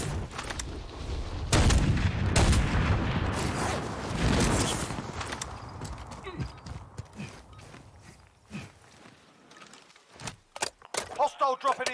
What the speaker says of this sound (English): Volvamos con las snipers.